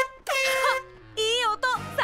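A toy car in a cartoon sounds a newly fitted horn in three loud, tonal honks, each a bent, wavering blast, spaced closely together.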